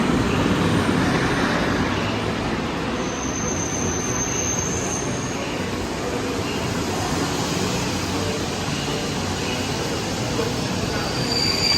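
A PKP Intercity train pulls into a platform in Poznań with a steady broadband roar of wheels and rolling stock, a brief high squeal partway through, heard fairly close.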